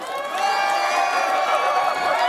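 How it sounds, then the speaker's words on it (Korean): Crowd at a Democratic Party political rally cheers and claps, a dense, steady roar of voices and applause lasting a couple of seconds. "대표께 다시 한번 뜨거운 박수 부탁드리겠습니다."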